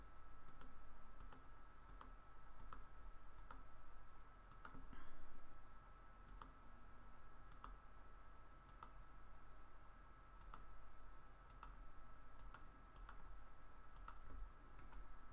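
Faint, regularly spaced mouse clicks while working in AutoCAD, sharp little ticks repeating every second or so over a steady low room hum and electrical whine.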